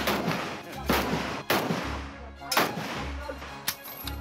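A Soviet-produced AK-47 rifle fires a few separate, heavy shots spaced about a second apart, each followed by a booming tail.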